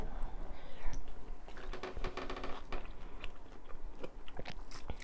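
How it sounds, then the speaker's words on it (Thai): An elderly woman bites into a raw eggplant with close, crunchy crisp snaps and chewing, eaten alongside an Isan-style lime pork salad. "ฟันกัดมะเขือไม่ไหวจ้ะ"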